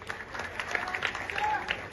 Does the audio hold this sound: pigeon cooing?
no